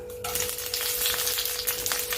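Dried red chillies hit hot oil in a wok for Bengali moong dal, starting with a sudden loud crackling sizzle that holds steady and close after a brief quiet start.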